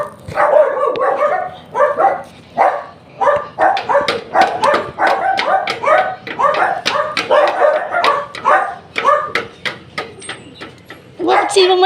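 A dog barks close by in rapid, repeated yips and bow-wows across the whole stretch, loud and insistent, with people talking faintly underneath.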